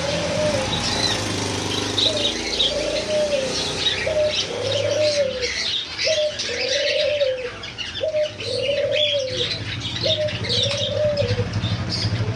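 Australian doves coo in a steady run of soft, repeated calls, about one every second or two. Other caged birds at a bird seller's chirp continuously in the background.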